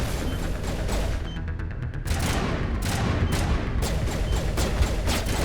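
Rapid gunfire from a Mass Effect firefight crackles densely and loudly, with distinct sharp shots punctuating a steady roar of battle noise throughout.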